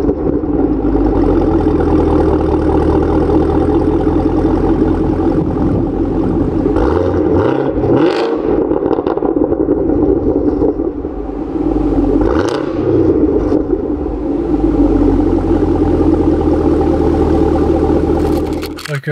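A 2018 Chevy Camaro ZL1 1LE supercharged V8 fires up and rumbles at a loud, deep idle nearby, with a couple of brief throttle blips breaking the steady burble.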